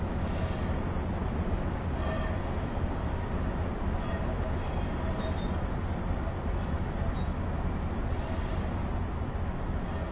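A CSX locomotive in Train Simulator 2015 slowing on the loco brake, with a steady loud rolling rumble, faint metallic squeals and hiss running throughout.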